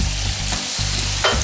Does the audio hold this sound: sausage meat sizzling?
yes